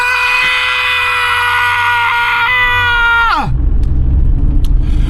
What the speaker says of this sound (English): I think a little celebration scream is in order.